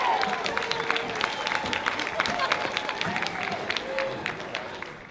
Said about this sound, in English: Please give a warm round of applause for Shandara Gill.